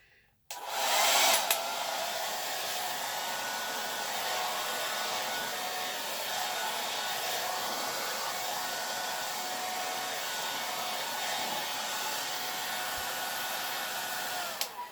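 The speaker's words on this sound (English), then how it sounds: "time for the blow dryer" A hair dryer switches on and blows with a steady, loud whooshing roar that holds without a break, close by, with no voices.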